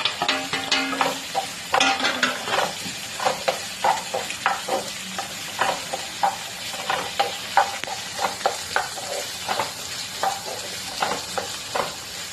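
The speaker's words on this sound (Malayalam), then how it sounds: "അതിന്റെ കൂട്ടത്തിൽ ഞാൻ ക്യാരറ്റ് ഇട്ട് കൊടുക്കണേ. 2 പച്ചമുളകും ഉണ്ട്. ചെറുതായിട്ടൊന്ന് വാട്ടിയാൽ മതി." Carrots and green chilies sautéing for pulao, a steady oily sizzle in the pan broken by repeated sharp scrapes and clinks of a spoon stirring, close and alone for about twelve seconds.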